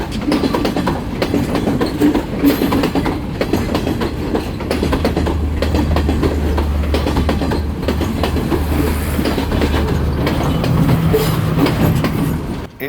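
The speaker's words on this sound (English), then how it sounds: "see the Class S14 train go past, a massive Chinese Thangamale diesel train" A Class S14 Chinese-built diesel train passes close by on a railway line near Haputale, loud and continuous, with rhythmic clickety-clack of wheels over rail joints and a low diesel drone throughout.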